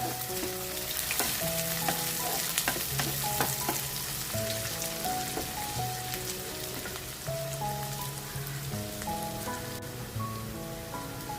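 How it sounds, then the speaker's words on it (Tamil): Garlic frying in oil in a pan while making quail chops, a dense continuous crackling sizzle with scattered pops and occasional stirring, close and steady, with no voices. "வெள்ளப்பூடு கொஞ்சம் நல்லா வேகட்டும்"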